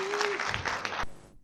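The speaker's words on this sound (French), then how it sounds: "Sous vos applaudissements." An audience at a televised word-contest final applauds a speaker, a short dense burst of clapping that cuts off abruptly after about a second.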